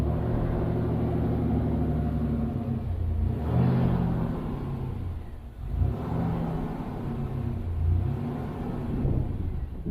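A GMC Typhoon with fuel injection runs steadily on its first start in over ten years, a low rumbling idle close by that swells with a couple of revs before settling back.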